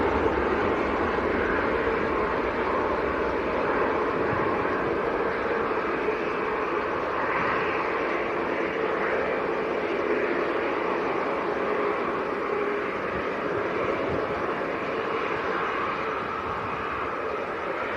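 EasyJet airliner departing Manchester for Belfast, a constant, moderately loud broadband engine rumble and hiss sustained across the whole stretch, without speech.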